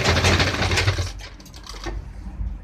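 A sewing machine stitches belt loops onto a gents' formal trouser in a quick burst of rapid needle chatter, close and fairly loud, then a quieter pause and shorter handling rattle; no speech.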